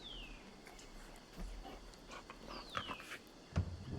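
A dog in the medieval video game Pentiment whimpers with soft, high, descending whines, two drawn-out cries separated by quiet breathing and light shuffling, faint and close.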